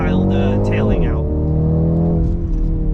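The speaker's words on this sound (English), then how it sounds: "So if I ignore all that beautiful engine note, I'm not really accelerating as fast as I think I am" A BMW X2 M35i engine note rises as the car accelerates, with a deep harmonic tone that climbs and then shifts as the gears change. It runs loud and steady from inside the car while someone talks over it.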